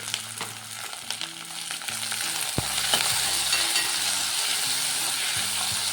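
Tomato frying in a little oil in a pan for amaranth dal, a close, steady sizzle that grows fuller partway through, with a few stirring scrapes and no talk.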